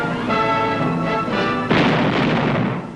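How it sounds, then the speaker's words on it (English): Heavy weapons fire from a Monitor shallow-draft landing craft carrying 40mm and 20mm cannon, an 81mm mortar and machine guns, with a sustained rumbling barrage and a sharp loud blast partway through, continuous and close. "a landing craft armed with a 40mm and a 20mm cannon, an 81mm mortar, plus 50 and 30 caliber machine guns."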